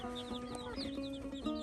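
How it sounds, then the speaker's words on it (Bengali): Several hens and chicks in a Bangladeshi village yard give repeated soft clucks and high peeping cheeps, fairly faint and fairly close. "অনেক মুরগি হয়েছে"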